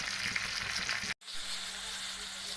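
Green chillies frying in hot oil, a continuous close sizzle with a brief cut to silence midway before the crackling resumes, no voices over it.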